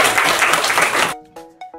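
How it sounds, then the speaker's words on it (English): Children's applause in a classroom, a dense burst of clapping for about a second that cuts off abruptly, followed by a few faint voices. "How about a big round of applause?"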